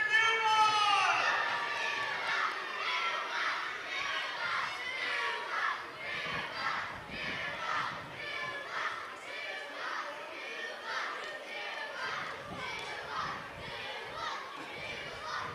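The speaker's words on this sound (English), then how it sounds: "And guys, I want to hear you cheering for Newbawn!" Children shouting and cheering as a crowd at the start of a school relay running race outdoors, with a rise right at the start and then steady busy chatter and calls throughout.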